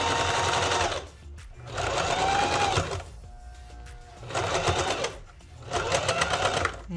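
A sewing machine stitches shirt fabric in three loud bursts with short pauses between them. It runs with a steady whirring hum.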